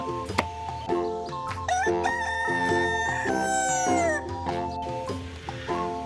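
A rooster lets out one long, loud crow that rises and falls over a few seconds, over steady background music.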